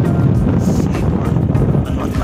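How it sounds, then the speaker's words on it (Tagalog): Strong wind at a seaport, a loud, continuous low rumble of gusts buffeting the microphone with no other clear sounds on top. "So, mahangin talaga."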